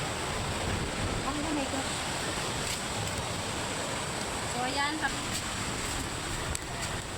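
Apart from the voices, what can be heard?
sea waves at low tide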